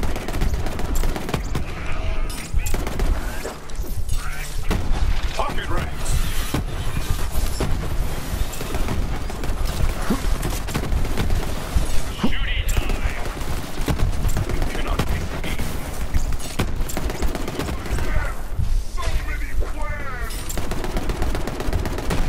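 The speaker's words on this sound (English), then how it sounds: "Explosive fire, apparently." Explosive gunfire rattles almost nonstop in Borderlands 3, with dense overlapping shots and blasts forming a loud continuous barrage while someone talks over the din.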